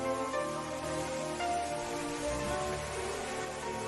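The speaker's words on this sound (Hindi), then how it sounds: "आज की तरह उस दिन भी बारिश हो रही थी।" Steady rain falling in the Dororo anime, an even, continuous hiss that fills the whole moment with soft tonal music underneath.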